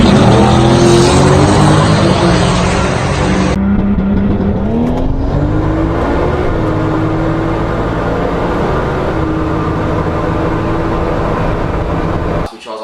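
A twin-turbo Toyota Supra engine roars loudly and continuously, revving up through gears as it accelerates hard down a drag strip on a nine-second pass before cutting off abruptly.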